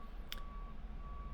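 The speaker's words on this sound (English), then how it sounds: "This beeping sound of whatever truck it is out there is driving me nuts" A truck's reversing alarm beeps faintly from outside, a thin steady tone under low background hum, with one brief sharp noise early on.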